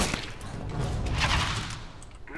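Close, rapid gunfire crackles and thumps in a Counter-Strike: Global Offensive match, forming a dense, sustained volley of shots.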